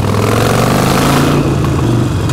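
A Harley-Davidson motorcycle engine accelerates hard, loud and close, with a deep, thick rumble and layered harmonics that rise steadily before easing slightly near the end. No talking.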